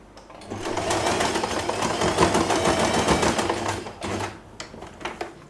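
A sewing machine stitches scrap fabric to close the opening of a puffy hair bow. It runs as a loud, steady mechanical whir for about three seconds, then stops and starts in a few short bursts.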